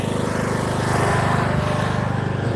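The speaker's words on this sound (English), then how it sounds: "The guy at the trailer park riding his lawnmower now, like Bobby Boucher from The Waterboy." A riding lawnmower runs outdoors at a trailer park, its engine a steady, loud, pulsing drone with no pauses.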